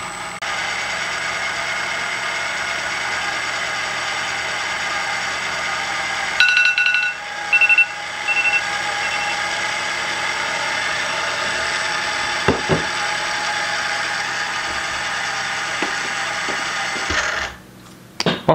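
Small Team Associated 2WD RC car with its electric motor running steadily to break in a ball differential, a continuous whine that holds for about seventeen seconds before cutting out, with a few brief clicks near the end.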